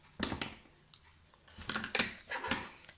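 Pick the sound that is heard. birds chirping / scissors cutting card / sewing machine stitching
scissors cutting card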